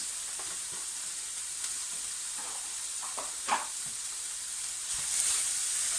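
Peppers, diced carrots and mushrooms sizzle steadily in a pan for a Bolognese sauce, a constant close hiss with a few light scrapes of stirring and a brief clatter near the end.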